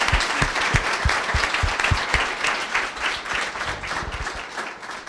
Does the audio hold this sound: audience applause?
yes